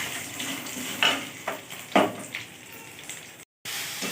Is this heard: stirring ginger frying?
yes